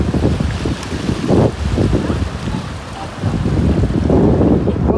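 A large river rushes with a broad, steady roar while gusts of wind buffet the microphone, the noise swelling and easing without pause.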